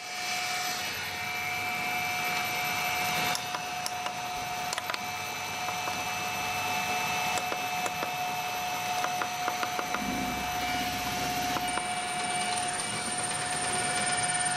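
An old single-phase motor runs steadily on a variable frequency drive with its start winding wired, giving a continuous electrical whine and hum with faint clicks, no voices.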